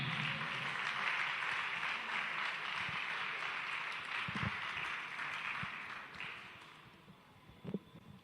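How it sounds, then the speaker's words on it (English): An audience at a Geoinformation Society of Nigeria event claps in steady broad applause that fades over several seconds, leaving a few scattered claps and thuds. "Please put your hands together as he comes for his goodwill message."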